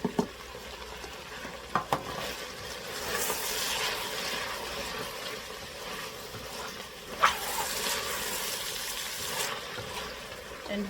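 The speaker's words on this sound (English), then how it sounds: "To put our onions." Onions frying in a pan, a soft steady sizzle with occasional stirring clatter, fairly quiet and close.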